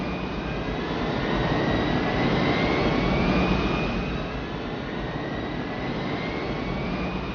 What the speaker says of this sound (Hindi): इंजन की गड़गड़ाहट